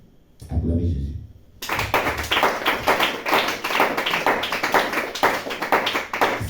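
A church congregation breaks into loud, sustained applause and cheering after a short spoken exclamation, dense clapping continuing steadily to the end.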